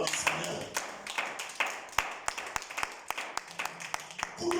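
A church congregation at a Sunday service claps for the Lord. The clapping is a brisk, uneven run of hand claps with some applause mixed in, and voices can be heard faintly underneath.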